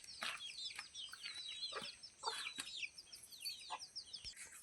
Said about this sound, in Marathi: हे बघा कोंबड्या, बघा कोंबडीची पिल्लं आहेत छोटी छोटी.